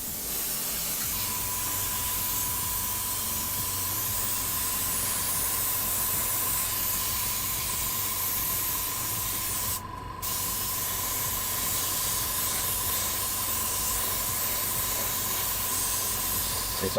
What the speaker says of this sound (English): I'm just spraying it as if it was a normal piece of scenery